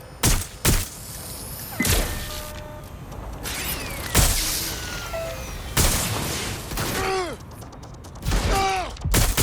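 Gunfire in Watch Dogs: Legion, sharp bursts of loud shots at irregular intervals, some in rapid clusters, mixed with whooshing and ricochet-like whistles.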